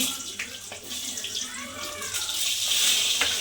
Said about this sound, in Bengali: আলু দিচ্ছি, ভেজে নেব